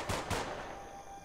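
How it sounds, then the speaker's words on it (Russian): Gunfire in the post-apocalyptic video game The Last Haven: two quick, loud shots in rapid succession, each followed by a long, rumbling reverberant tail, with no speech. "вот звуки стрельбы и след от выстрела вроде бы довольно реалистично передан"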